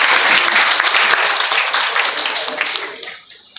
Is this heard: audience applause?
yes